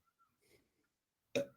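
One short, close burp erupts on a live microphone after near silence and a faint murmur.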